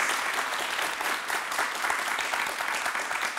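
A television studio audience claps steadily, a dense wash of hands that stays loud and even for the whole few seconds without any talk.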